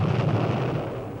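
A dust explosion, as studied in a lab to help prevent the kind of blast that can wreck factories, lets out a deep, broad rumbling roar that stays loud and dense throughout and then slowly tails off, with no talking.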